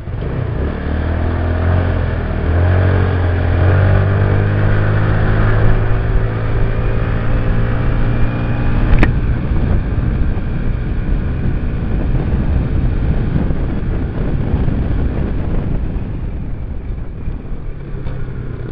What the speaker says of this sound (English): Medyo tumaas na yung RPM.